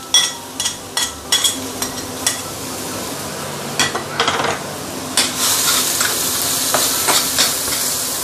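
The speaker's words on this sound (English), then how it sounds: "Put in the garlic, ginger, chopped garlic and chopped ginger." Chopped garlic and chopped ginger frying in hot oil over raised heat, a continuous sizzle with repeated clinks and scrapes of a utensil stirring against the pan, growing louder and busier toward the end.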